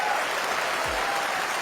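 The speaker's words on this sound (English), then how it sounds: "The crowd reaction to that shot was incredible" Snooker arena crowd applauding a shot, a dense steady wash of clapping throughout the short moment, with a low thump partway through.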